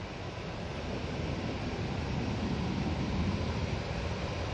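Distant jet engine roar as an air tanker aircraft taxis out at Manchester Airport, a steady broadband rushing hum with no distinct peaks, heard from afar amid wind.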